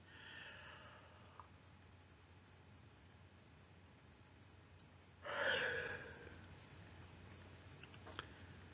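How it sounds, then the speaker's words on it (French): A person gives one big, drawn-out voluntary yawn during a sophrology relaxation exercise, rising out of a quiet, hissy room about midway and fading after a second or so. "Vous accueillez un grand bâillement volontaire."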